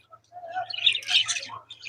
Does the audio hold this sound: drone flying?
no